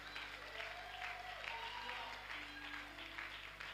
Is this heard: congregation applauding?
yes